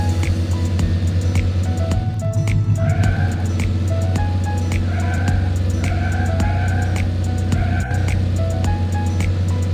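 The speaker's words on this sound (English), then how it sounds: "Drive the truck to deliver goods." Truck engine in a children's video game, a steady loud synthetic motor drone with tonal hum that holds constant throughout, with brief higher chirping game effects layered on top.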